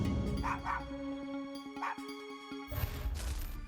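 Dogs bark and yelp in short bursts as they flee a dirt and rock slide spilling onto a road, followed by a loud crashing rumble of debris.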